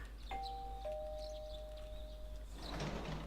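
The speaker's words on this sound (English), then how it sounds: "You hear the doorbell ringing." A two-tone doorbell chime rings once in the video game Persona 4, its bright sustained tones fading over a couple of seconds against a quiet room-tone background.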